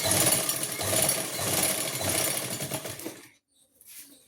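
A sewing machine runs steadily, stitching half elastic onto the waistband of palazzo pants for about three seconds before stopping, followed by a brief quieter rustle of handling.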